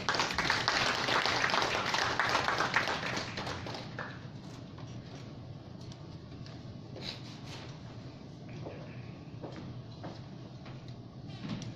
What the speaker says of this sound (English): let's welcome with a big round of applause Mr. Alfred A. Christopher Guiam.